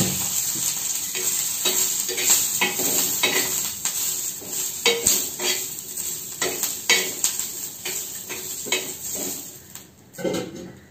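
Green chillies frying in oil in a pan, a bright steady sizzle broken by frequent scraping stirs and clinks of a utensil against the pan, close and continuous.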